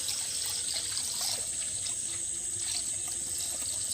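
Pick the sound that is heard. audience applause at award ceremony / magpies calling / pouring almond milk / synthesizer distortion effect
pouring almond milk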